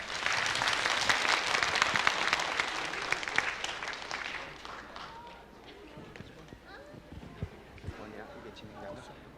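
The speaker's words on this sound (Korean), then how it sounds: "환영의 박수 부탁드리겠습니다" At a church fellowship evening, an audience claps to welcome two seven-year-old kindergarten children, a fairly distant, steady burst of applause that thins out after a few seconds into scattered claps, with voices murmuring underneath.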